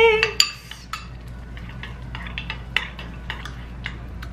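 A spoon clinks and scrapes against a bowl while stirring a chocolate mixture with a tiny pinch of salt, in a series of light, sharp taps and soft scrapes with quiet gaps between them.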